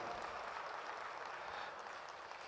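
Faint, steady applause from an audience at a civil service week celebration and awards ceremony, a soft even wash of clapping held for a couple of seconds with no voices over it.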